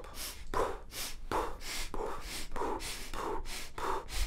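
Diaphragmatic breathing in a hotel room workout, done in the style of Hicks and Gracie breathing: a steady series of about eight quick, forceful breaths, each a short rushing burst, close and alone.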